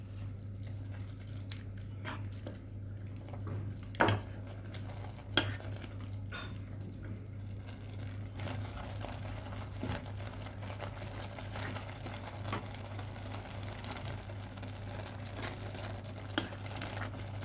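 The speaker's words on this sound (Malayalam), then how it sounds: "ഇനി നമുക്ക് പാലൊഴിച്ച് നല്ലവണ്ണം ഇളക്കണം." Carrot halwa with milk stirred in a pan over a medium flame: a low simmering bubble and steady hum, with occasional scraping and tapping strokes of the spoon, a couple of them sharper and louder.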